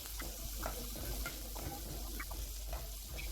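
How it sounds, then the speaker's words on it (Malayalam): Dried red chillies sautéing in a hot pan, a steady frying sizzle under repeated stirring and scraping, close and moderately quiet. "ഇതൊന്ന് നന്നായിട്ട് വഴറ്റിയെടുക്കാം. നമ്മളിത് ഇനി വറ്റൽമുളക് ഇടുകയാണ്."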